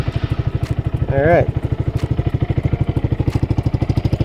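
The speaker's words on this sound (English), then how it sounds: "I love the sound of this exhaust." A 2022 Honda Grom motorcycle idles through a cheap $70 aftermarket exhaust, a loud, close, rapid and evenly spaced thumping pulse that runs steadily, with a short spoken remark briefly over it.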